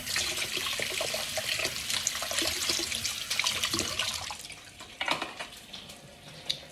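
Dishes washed under a running tap at a sink, a continuous rush of water with clinks and splashes as items are rinsed, close and steady throughout.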